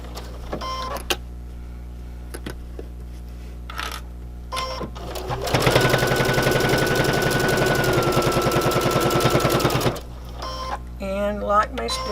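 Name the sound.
sewing machine stitching the ends of a filter pocket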